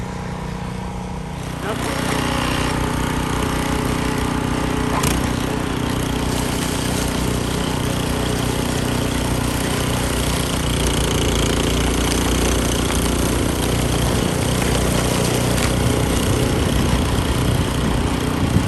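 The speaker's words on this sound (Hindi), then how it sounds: "मोटर सी होती है जो कि स्नो को उठा उठा के फेंकती रहती है" Snow blower clearing snow outside a house during a Canadian snowstorm in -19 degree cold, a steady loud motor drone that starts after a brief quieter moment and runs continuously to the end.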